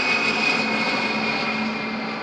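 A NATO Boeing 707 surveillance aircraft flies over an airbase near a small town, its jet engines giving a loud, steady roar with a bright whine that stays fairly constant and eases slightly toward the end.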